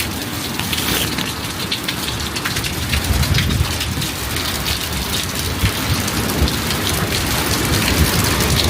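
Heavy rain pours during an extreme February storm in Oregon with high winds, drumming hard and steadily on an umbrella and nearby surfaces close to the microphone, with occasional louder gusts and thuds.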